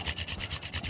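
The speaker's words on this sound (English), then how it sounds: "I'm gonna grate in a little bit of Parmesan Reggiano" Parmesan Reggiano is hand-grated over pizza sauce in a few quick rasping strokes. They come in a steady, even rhythm, close by and fairly soft.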